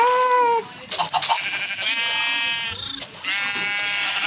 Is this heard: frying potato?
no